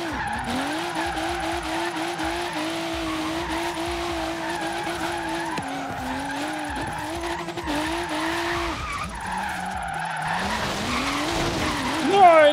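A car drifting in Forza Horizon 3 through a street drift zone gives off a continuous tire squeal over a steady engine drone. Pitch glides rise and fall with the slides, and the sound grows louder near the end.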